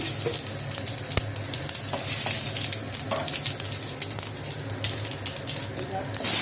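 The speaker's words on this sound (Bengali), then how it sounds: "এবার এই তেলের মধ্যে একটা তেজপাতা ছাড়িয়ে দিলাম আর একটু জিরে, গোটা জিরে ফোড়নে দিলাম।" A bay leaf and whole cumin seeds sizzle steadily in hot oil in a pan, a loud, continuous close crackle with faint clinks and stirring sounds, in a fish-bone curry preparation.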